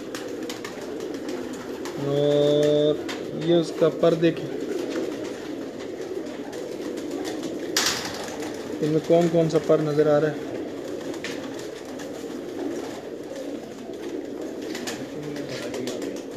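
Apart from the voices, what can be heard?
pigeons of the Bachchu Miyan breed cooing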